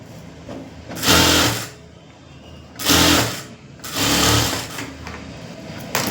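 A sewing machine stitches across the lining of a full blouse in three loud, close bursts of rapid whirring separated by short pauses.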